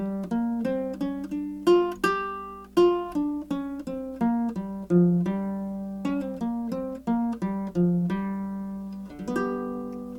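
A plucked baritone ukulele plays a slow blues scale up and down in single notes, each note ringing and fading, with no voices.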